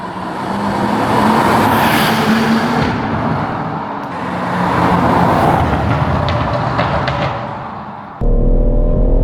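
A BMW M140i's 3-litre straight-six engine revs and pulls hard, droning steadily with rising intensity, then a brief shift before the engine note returns in fourth gear.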